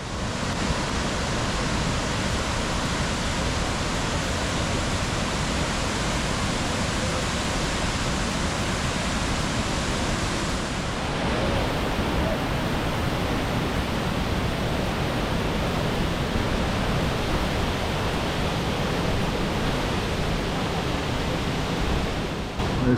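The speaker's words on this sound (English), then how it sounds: "Nugget Falls is a 2-tier waterfall with a 99-foot drop and then a 278-foot drop right into Mendenhall Lake." Nugget Falls, a two-tier waterfall dropping 99 then 278 feet into Mendenhall Lake near Juneau, Alaska, roars as a steady, loud broadband rush that stays constant throughout with no voices.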